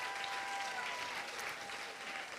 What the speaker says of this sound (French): Avec nous, on peut l'applaudir.